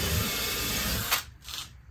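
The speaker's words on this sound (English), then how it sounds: "I'm going to drill a hole." A steady, high-pitched whine of a power drill boring a hole into a wall runs continuously, then cuts off, followed by a short second burst.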